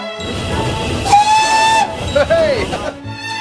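A steam locomotive rumbles and chugs under load on a climb pulling 110 tons, with two short whistle blasts sounding over the steady mechanical noise before it fades.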